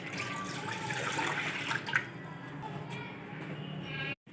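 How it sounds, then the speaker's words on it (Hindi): Water pours into a kadhai on the stove for boiling rice for potato biryani, a steady close splashing stream for about four seconds that stops abruptly near the end. "1 लीटर पानी ऐड करेंगे।"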